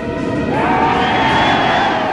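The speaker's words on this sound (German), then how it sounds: "Der Jubel ist inszeniert." Staged mass cheering in Mao-era China, 1964: a dense, loud wall of crowd voices shouting and whooping continuously, swelling slightly halfway through, with no separate speech.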